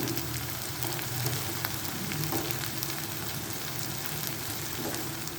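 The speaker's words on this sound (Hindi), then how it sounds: "अंडे डालने के बाद आपने इसको लो फ्लेम पे पकाना है" Omelette batter cooks in a pan over a low flame with a steady, quiet, even sizzle and crackle throughout and no talk.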